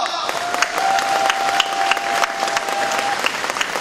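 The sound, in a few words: applause at a political party rally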